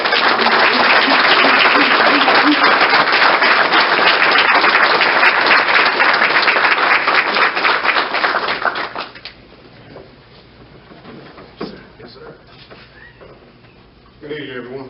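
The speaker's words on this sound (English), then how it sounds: "Would y'all give him a round of applause?" Loud, dense applause from a crowd at a Grand Lodge of Texas anniversary event fills the first nine seconds, then fades into scattered claps and quiet room noise before a voice begins.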